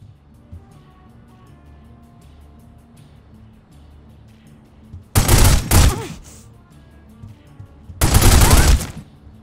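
Two loud bursts of Tommy Gun fire in The Godfather video game cut through a quiet, low ambient background. The first is a short rattling volley and the second a longer sustained one a couple of seconds later.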